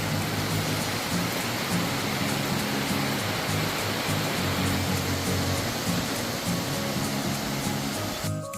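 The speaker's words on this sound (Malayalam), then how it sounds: "അപ്പോൾ പെയ്യാൻ തുടങ്ങിയ മഴ എങ്ങനെയുണ്ട്?" Steady, dense rainfall hisses evenly throughout, a continuous wash of broadband noise with a low rumbling undertone and no voices.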